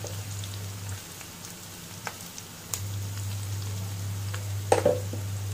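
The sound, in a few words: vegetables frying in a pan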